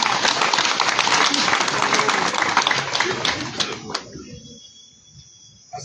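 A crowd applauds at an outdoor political rally of the United Forces of Change in Katonga. The clapping is dense and steady for about four seconds, then quickly thins out and fades to near quiet.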